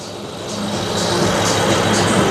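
A BMW X5 SUV tuned to 700 horsepower with a turbo, idling loudly up close: a steady deep engine drone that swells slightly, with no talking.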